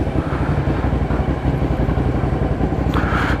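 A Hyosung GT650R motorcycle engine runs steadily, a loud, rough, throbbing drone that holds constant throughout, with a brief brighter rise near the end.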